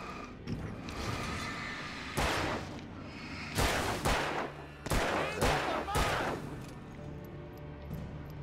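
Gunfire in the Alan Wake video game, a series of sharp, loud shots spaced irregularly over a constant rumbling game background, with no talking.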